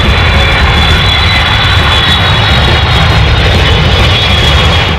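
A loud, steady jet roar of an Indian Air Force aircraft spraying for cloud seeding over Chhatrapati Sambhajinagar fills the air, an unbroken drone with a bright high whine that holds evenly throughout.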